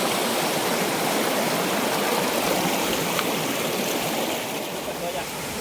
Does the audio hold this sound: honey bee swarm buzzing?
no